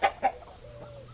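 A human voice imitates a hen clucking during a farm storytime: two quick, loud clucks close together, then a softer drawn-out call that trails off.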